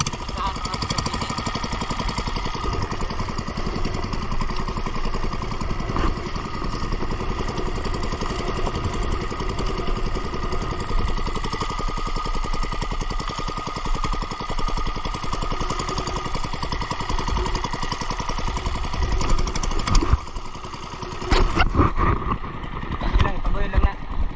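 An engine runs continuously with a steady, rattling mid-pitched drone, loud and close, while people talk over it near the end.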